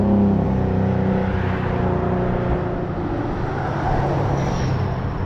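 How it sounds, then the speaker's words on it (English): Steady road traffic noise with cars rolling past on a road in Maine during a summer walk, a continuous broadband rumble and hiss that swells slightly as vehicles pass, fairly close and without speech. "a lot of cars today."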